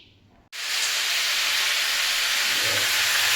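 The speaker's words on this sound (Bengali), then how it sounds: "এই যে ডাঁটা আলু পোস্ত হবে বলে তেলের উপর ডাঁটা আলুগুলো একটু ভাজা হচ্ছে" Drumstick stems and potatoes drop into hot oil, and a sudden loud, steady sizzle breaks in and holds, close and continuous.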